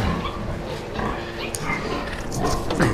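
Piglets about a month old grunt and squeal inside a pig barn, several animals close by with a steady busy chorus of overlapping snorts and higher squeals over low barn noise.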